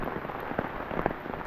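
Sudden heavy rain pours down outdoors at a lakeside spot, a dense steady hiss of drops with a few louder splashes standing out, close and continuous with no talking.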